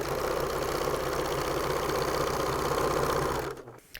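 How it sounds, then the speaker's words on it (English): Sewing machine stitching binding onto a T-shirt quilt, running as a steady, loud continuous whir with a fast mechanical rhythm, then stopping abruptly near the end. "As soon as my finger hits the sewing machine, I stop and reline up."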